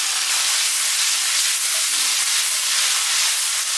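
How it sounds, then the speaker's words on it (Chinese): Spices stir-fried in hot oil with scallion, ginger, garlic and chili bean paste, giving a loud, steady sizzle and hiss that stays dense and unbroken from start to finish, with no voices. "准备好了香料，倒入炒一下"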